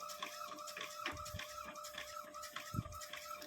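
An Epson L605 inkjet printer, opened up and with trouble getting ink out, prints with its print head shuttling back and forth in a steady, soft rhythmic whir and click, heard faintly and alone.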